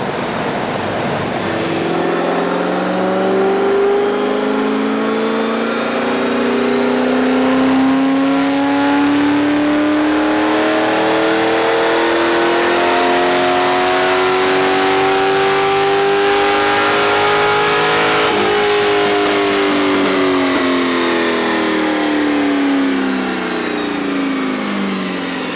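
A car engine revs hard and long on a dynamometer, running a 2.56 gear ratio, its tone climbing steadily through the rev range for over twenty seconds at loud, constant volume before easing off, with no talk.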